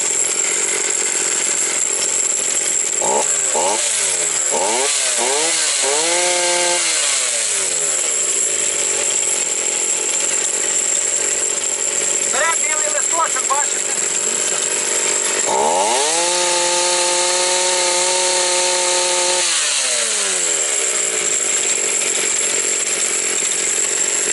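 A used 3800-class chainsaw is pulled and fired up, revving in several rising and falling bursts, idling, then revving hard again. The engine sounds close and loud the whole time, with no talking.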